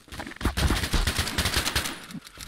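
Rapid gunfire in Garry's Mod roleplay, a fast string of close, loud shots fired in automatic bursts over a couple of seconds with almost no talking.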